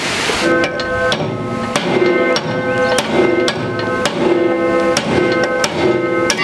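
Repeated sharp metal hammer strikes on a steel pin being driven out of a brush cutter blade, about eight loud ringing blows at a steady rhythm with metallic ringing between them, no talk.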